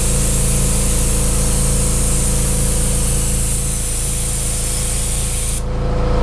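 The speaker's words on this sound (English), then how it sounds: "I can go back and just hit it again, spray the base coat on" A steady, loud hiss of a paint spray gun laying down base coat on a car body, continuous for several seconds with a low motor hum beneath, then cutting off near the end.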